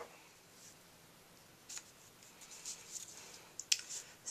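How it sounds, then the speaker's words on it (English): Ribbon scissors trim the loose ends of a ribbon knot on a handmade baby card, giving a few faint, crisp snips spaced apart in an otherwise quiet room. "cut off the little edges with our ribbon scissors"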